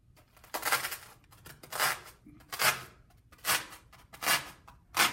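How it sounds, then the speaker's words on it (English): Scissors cut out a paper shape in a run of six distinct crisp snips, evenly spaced at roughly one per second, close and fairly loud with quiet gaps between. "I'm going to cut this out like this"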